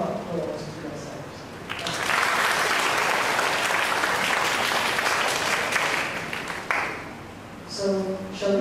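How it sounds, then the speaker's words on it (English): An audience at a junior inter-school debating tournament applauds the debaters in a dense, steady wash of clapping that swells in after a voice, holds for several seconds, then fades as talking returns. "So give a round of applause to yourselves."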